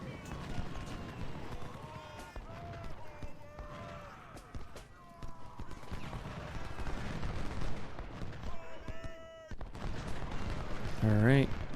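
Musket volleys crack repeatedly in the Civil War strategy game Ultimate General: Civil War, mixed with battlefield noise, hoofbeats and shouted commands, while a person talks over the fighting throughout.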